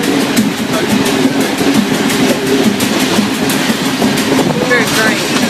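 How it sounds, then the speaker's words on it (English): Rattling clickety-clack of a passenger train riding the rails toward Colombo, Sri Lanka, loud and continuous from the inside, with voices talking over the rolling noise. "Our train trip into Colombo."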